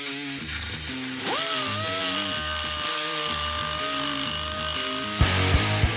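A carbide burr on a die grinder removing metal inside a cylinder head intake port, a steady high whine with a rising pitch sweep, running loud and continuous throughout.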